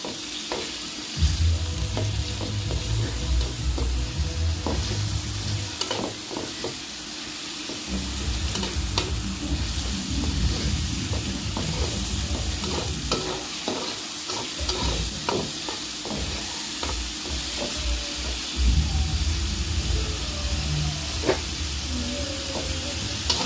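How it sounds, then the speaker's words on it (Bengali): Crushed garlic, chopped onion and a little ginger paste fry in hot oil for an egg and potato curry, a loud continuous sizzle with repeated stirring scrapes and bursts of hiss, close by and without talk. "রসুন বাটা পেঁয়াজ কুচি আর সামান্য একটু আদা বাটা এর ভিতরে এখন দিয়ে দেবো আমি তেল মশলাটাকে ভালোভাবে ভেজে নেব"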